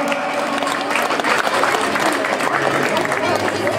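A crowd at a sports club's team presentation breaks into sustained applause, dense clapping filling the room continuously, with some voices mixed in.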